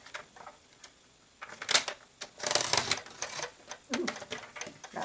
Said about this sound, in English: now I'm going to cut the front off of this card base